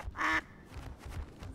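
A single loud, nasal duck quack bursts out near the start in the video game Duckside, followed by quieter low background murmur.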